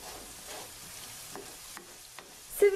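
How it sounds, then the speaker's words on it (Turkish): Food fries softly in a pan as salt and red pepper flakes are stirred in, a low steady sizzle with a few faint scrapes of stirring and a brief louder clatter near the end, no talk. "Yumuşayana kadar karıştırarak pişirelim."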